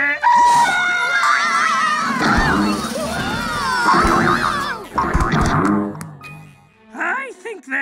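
Cartoon stretching sound effects for a slime monster, with springy boing-like wobbles and rising and falling tones, sound throughout under excited cartoon voices, with shouts and squeals close up.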